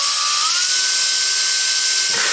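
Steady high-pitched whine of a power grinder working the axle of a 1962 KTM Ponny De Luxe scooter frame during restoration, continuous and loud with a slight pitch rise, cutting off near the end.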